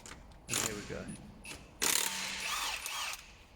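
Ratcheting clicks and mechanical whirring from a tool removing a locking wheel nut on a car's alloy wheel, coming in two loud close bursts with quieter gaps.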